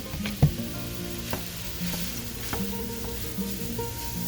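Hot sausage frying in a pan gives a steady close sizzle with a sharp knock near the start and occasional light utensil taps, no talking.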